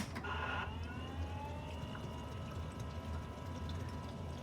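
A Rainbow vacuum cleaner running in air purifier mode hums steadily with a faint whine, a low continuous drone at moderate distance, with a brief rattling burst near the start.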